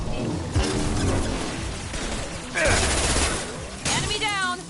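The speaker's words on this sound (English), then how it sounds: "Firing an impact shot!" Impact shot fired in the Mass Effect 2 sci-fi shooter: loud crashing gunfire bursts erupt in three separate surges amid chaotic battle noise, with a voice talking faintly under the din.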